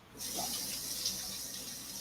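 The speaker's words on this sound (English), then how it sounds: "And then we will add some warm water to this just to make sure it doesn't get caught in the blender." Warm water pours steadily from a tap into a blender holding fresh ginger for a sauce, a continuous close splashing hiss lasting about two seconds with no talk.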